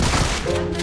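Rapid bursts of gunfire ring out in a PUBG Mobile league match, loud and dense across the whole short moment with no talk over it.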